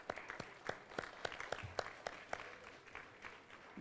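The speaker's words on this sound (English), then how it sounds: "would you give them a very warm round of applause?" At an outdoor park dedication, a small crowd claps for elected officials. The claps are faint and sparse, spaced a few tenths of a second apart, and sound distant and thin rather than a full ovation.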